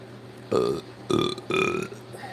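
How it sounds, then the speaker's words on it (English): Three loud, close burps in quick succession after drinking Gatorade, each a short guttural croak, with a quiet pause between them. "That's that Gatorade burp right there."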